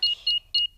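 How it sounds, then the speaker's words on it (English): Cartoon car alarm being switched back on: three short, bright electronic beeps in a quick, evenly spaced burst, close and clear, with no voices. "Switch the alarm back on."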